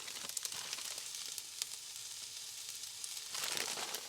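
Noodles cooking down with vegetables in a pan, giving a steady, moderate sizzle and frying hiss with light crackles, heard alone and growing a little louder near the end.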